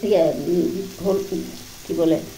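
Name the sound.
dried prawn (chingri sutki) curry being stir-fried in a pan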